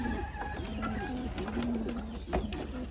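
Pigeon cooing repeated in low rounded phrases amid a noisy crowd of birds, from a pigeon-racing gathering in Muntinlupa, Manila; the coos sit close and steady under constant background din.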